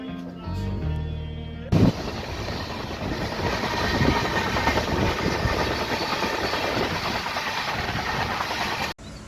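The Indore Daund Superfast Express runs along steadily with a loud continuous rumble and faint rhythmic clatter, heard from inside the train after a brief burst of talk at the start.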